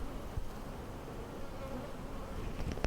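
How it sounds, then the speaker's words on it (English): Honeybees buzz at the hive, a soft continuous hum of many insects close by, faint and steady with occasional small knocks and no talking. "I can just sit here for hours and watch these little ladies"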